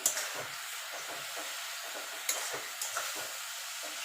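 Red amaranth greens with slit green chilies frying in a pan: a soft, continuous sizzle broken by a few sharper scraping stirs.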